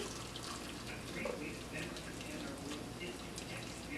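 Pickling liquid pours steadily into a jar of cucumbers and onions, a soft continuous trickle and splash heard close up at low volume.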